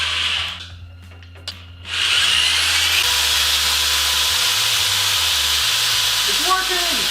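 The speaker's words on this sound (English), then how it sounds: "I'm just gonna drill it right through the top of the center." A power drill with a large bit whines loudly and steadily as it bores through material, following a brief quieter stretch with a few clicks.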